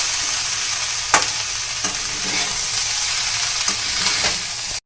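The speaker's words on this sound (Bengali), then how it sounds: "দুটোকে একসঙ্গে আলু ফুলকপি একসঙ্গে একটু ভেজে নিতে হবে" Potato and cauliflower pieces fry together in a pan, a loud continuous sizzle punctuated by several sharp scraping stirs of a spatula, with no talking.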